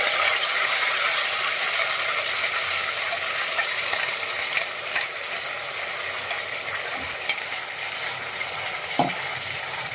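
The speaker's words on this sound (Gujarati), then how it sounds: "પછી આપણે આ ગ્રેવી છે એ એડ કરી દઈશું।" Steady frying sizzle as gravy for a cashew paneer curry is stirred in a hot pan, with scraping stirs and occasional clicks of a utensil against metal, close and continuous, no voices.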